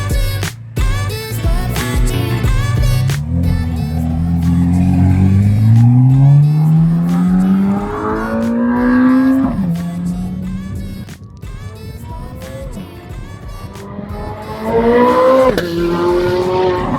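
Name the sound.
Chevrolet Corvette C8 Z06 with aftermarket exhaust driving by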